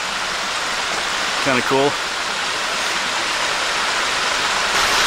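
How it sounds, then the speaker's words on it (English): A small waterfall rushes in a steady, close wash of broadband noise, and a brief spoken remark rises over it partway through. "You're just walking up this little waterfall here."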